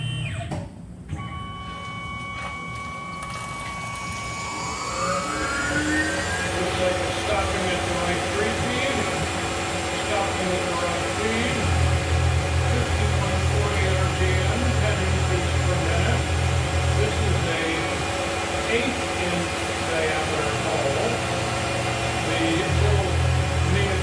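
Tormach PCNC 1100 CNC mill running a gang operation on two parts in a vise, a steady machine whine and spindle hum with shifting tones and periodic low cutting rumbles throughout, with a voice talking over it.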